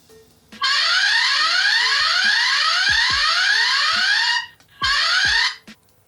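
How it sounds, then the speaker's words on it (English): A harsh, piercing electronic alarm from a Swann AllSecure 650 security camera blares continuously for several seconds, stops briefly, then sounds again, loud and close. "Here I can actually trigger an alarm manually."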